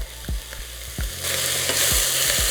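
Red pepper and garlic added to sizzling onions for vegan chili, with a few low thumps as they drop into the pan, then a louder, brighter sizzle under stirring, close by.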